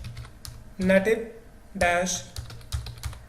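Rapid clicking of keys on a computer keyboard as a command is typed, steady light taps running throughout, with a voice talking over them.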